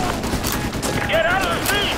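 Suppressing gunfire in the video game Modern Warfare 2 Remastered, a dense fusillade of overlapping shots and bursts in a street battle, continuous and loud, with radio-style voices and shouting mixed underneath.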